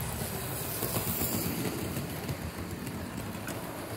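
A Hornby model BR Class 25 diesel-electric locomotive passes with parcel wagons, giving a steady, continuous rumble of motor and metal wheels on track that stays close and fairly loud throughout.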